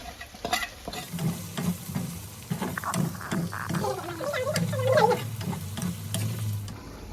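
Ground spices (turmeric, chili, cumin, coriander and Kashmiri red chili) sizzling and frying in a pan while being stirred, a steady close hiss with repeated scraping strokes of a spoon, no talking.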